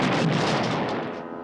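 Grenade blasts in a low-budget action movie, a loud, dense burst of explosive booming that fills the moment, then decays over about a second and a half.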